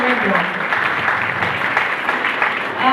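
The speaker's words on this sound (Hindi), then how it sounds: "सब लोग जो हैं पहले अपने लिए तालियां बजाओ फॉर द आउटस्टैंडिंग रिजल्ट" Students at a community ceremony honouring high-achieving pupils applaud themselves, a steady wash of many hands clapping at once, fairly loud and continuous with a brief dip near the end.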